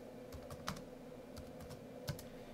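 Keys clack on a computer keyboard as a terminal command is typed on a Pop OS Linux machine: a few scattered, light keystrokes close by over a steady low hum.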